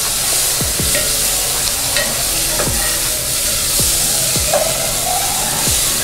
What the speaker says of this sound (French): je vais mettre l'oignon. Je mets l'oignon. Je vais tourner.